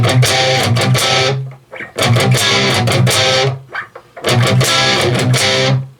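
Heavily distorted electric guitar plays a chugging palm-muted riff in three bursts separated by short pauses, loud and up front.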